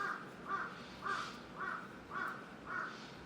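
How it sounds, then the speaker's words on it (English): Crows caw in a forest, six evenly spaced harsh calls at moderate distance over a soft background hiss, with no talking. "the crows decided to have a concert now"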